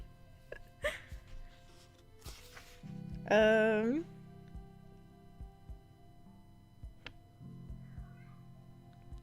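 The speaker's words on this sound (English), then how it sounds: "I was meowing because my cat meowed" A single loud cat meow rises and wavers for about a second amid quiet room sounds and scattered clicks.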